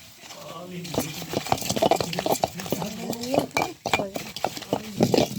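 Radish dal with garlic, chilies and black cumin tempering is stirred in a pot, with repeated clinks and scrapes of a spoon against metal while a voice talks alongside.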